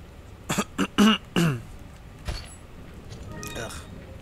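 Throat clearing and a few short coughs from a person close to a microphone during a Resident Evil 4 HD game session, a quick cluster of rough bursts followed by a faint thump and quieter game sounds.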